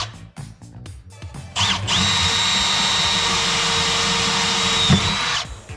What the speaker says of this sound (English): then drilling it out